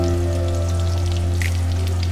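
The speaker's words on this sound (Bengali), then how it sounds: "তারপরে টমেটোটাকে আমরা ভালো করে তেলের মধ্যে ফ্রাই করব" Tomato frying in hot oil in a karahi for chicken karahi, a continuous close sizzle with fine patter like light rain over a steady low hum, no voices.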